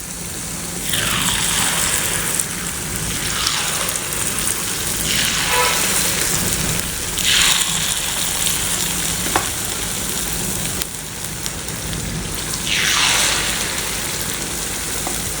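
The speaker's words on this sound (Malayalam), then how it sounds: "ഇനി നമുക്ക് മാവ് ഒഴിച്ചു കൊടുക്കാം." Unniyappam batter poured into hot oil in an appam pan, crackling and sizzling in bright bursts that swell as each portion hits the oil, repeating about five times over a steady frying hiss, close and loud.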